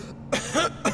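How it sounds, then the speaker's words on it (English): A game character in Showgunners gives a short burst of coughs, two or three rough hacks close up within a second, with a faint throat-clearing quality. "That's the first time I've heard you cough in a while."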